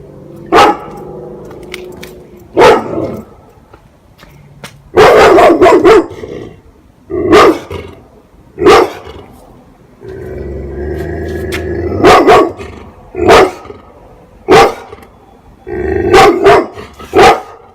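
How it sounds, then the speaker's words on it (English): A neighbour's dog next door barks repeatedly, sharp loud barks and yips in irregular bursts with short gaps, close by, occasionally mixed with a low growl. "hopefully we can get the dog to stop barking"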